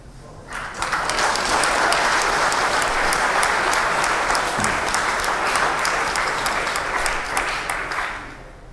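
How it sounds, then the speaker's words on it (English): Sustained audience applause rises sharply at a public debate, many hands clapping loud and continuous for several seconds before tapering off slightly near the end. "Why are you applauding that?"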